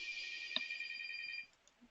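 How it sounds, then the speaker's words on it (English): A telephone rings faintly at a meeting, giving a short electronic ringtone burst that stops after about a second and a half. "Caden, can you answer phone?"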